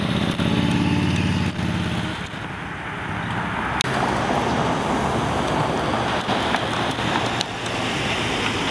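A big motorcycle passes on a city square street, its engine note loud and near at first, then fading into steady traffic noise with a few sharp clicks.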